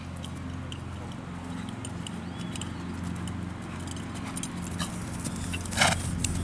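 Hooves of an Arabian-cross gray horse clip-clop in a steady rhythm over a low background rumble, with a louder clatter near the end.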